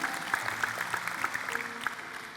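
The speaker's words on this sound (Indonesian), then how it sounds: "Kasih tepuk tangan untuk Tuhan Yesus dulu." Applause from a church congregation during an Indonesian sermon on the Book of Revelation, a fairly faint, even wash of many hands clapping with sharper individual claps poking through.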